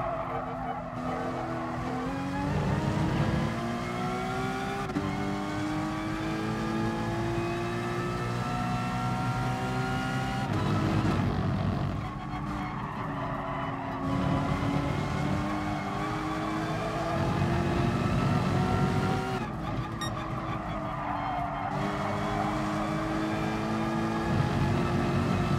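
Super GT race cars in the video game GT Sport rise and fall through repeated engine revs, with shifts between bursts and occasional tire squeal. The engines stay loud and close, with no talking.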